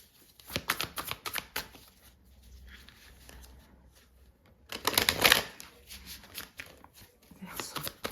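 Tarot cards being shuffled and riffled by hand in two clear bursts of rapid crisp flutter, close and fairly loud, with softer card handling in between and no talking.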